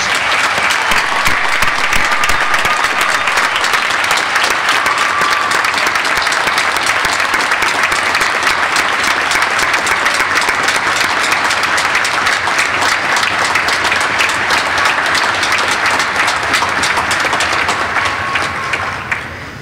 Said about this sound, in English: let's give your family and friends a resounding round of applause